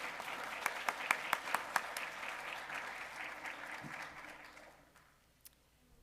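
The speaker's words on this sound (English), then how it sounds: "Let's give them one more round of applause" An audience at a civics bee event applauds with steady clapping and a few sharp whistles near the start. The applause fades away over about five seconds, leaving quiet room tone.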